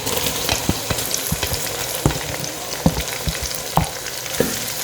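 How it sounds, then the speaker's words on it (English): Sliced tomatoes hit hot oil in a pan during a home lunch cook in Ghana, giving a steady close sizzle and crackle with sharp irregular pops and stirring clicks throughout, no voices. "I've been frying for a couple of minutes, so now I'm going to add my sliced tomatoes in."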